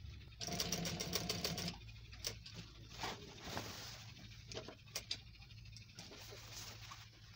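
Sewing machine running in bursts, stitching a cut front strip (patti) of a garment, loud rapid stitching at first, then shorter intermittent runs with brief pauses.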